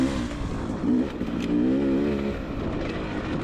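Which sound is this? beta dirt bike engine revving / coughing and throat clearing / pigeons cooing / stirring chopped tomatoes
beta dirt bike engine revving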